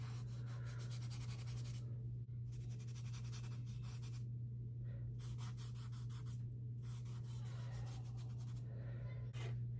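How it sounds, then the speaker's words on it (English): A paintbrush scrubs dirty white paint onto the background of a loose still-life study, making close, scratchy rubbing strokes in repeated bursts with brief pauses over a steady low hum. "I'm going to do the background in this, so I'm just going to quickly scrub this in."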